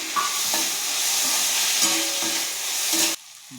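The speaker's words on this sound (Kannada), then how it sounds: "ಆನಿಯನ್ ಫ್ರೈ ಆಗಿದೆ. ಇವಾಗ ಅದಕ್ಕೆ ಟೊಮೆಟೊ ಹಾಕ್ಬಿಟ್ಟು 1-2 ಟೊಮೆಟೊ ತಗೊಂಡಿದ್ದೀನಿ" Chopped onion and tomato fry in a pan for mandakki oggarane, a steady sizzle broken by a few scraping stirs before the sound cuts off abruptly near the end.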